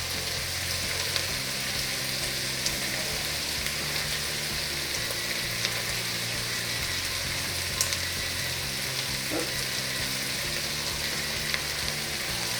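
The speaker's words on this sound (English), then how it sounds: "I'm going to go ahead and add about 2 tablespoons of chili powder." Chili frying in one pot as chili powder goes in, a steady, close sizzle with faint stirring scrapes throughout and no talk.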